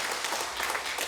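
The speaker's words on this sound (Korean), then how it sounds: "격려의 박수 한번 해주시기" A church congregation gives a brief burst of dense, steady applause during a Sunday service.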